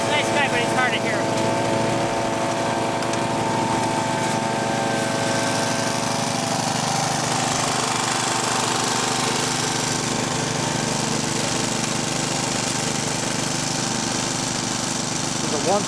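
An engine-driven dry washer runs continuously at a mining site, a loud, steady, rattling mechanical drone that fills the whole stretch without letting up.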